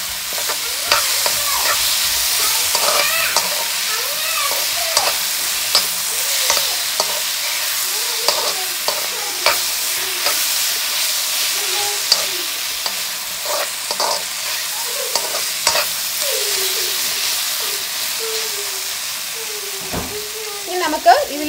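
Kerala-style duck curry fries in a pan while being stirred continuously, a constant close sizzle with repeated scraping and clinking of the spoon against the pan, and no voices.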